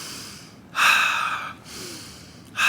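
Deep breathing during a breathing exercise, two loud airy inhales through the nose with a quieter exhale between them, close to the microphone.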